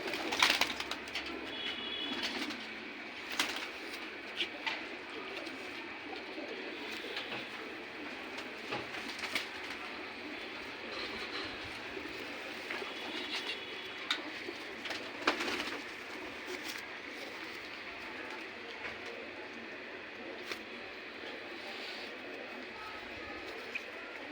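Pigeons coo repeatedly at a moderate distance in an old city neighbourhood, soft throaty calls recurring over a steady background hum with occasional sharper chirps.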